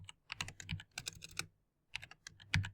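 Fingers type on a computer keyboard in a quiet room, clicking out two quick bursts of close keystrokes separated by a short pause.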